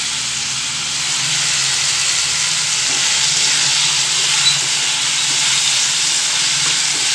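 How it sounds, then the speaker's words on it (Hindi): Chicken pieces sizzle and hiss steadily in a hot pan for chicken noodles, a constant close frying crackle with no voices. "एक से दो मिनट में हमारा चिकन फ्राई हो जाएगा।"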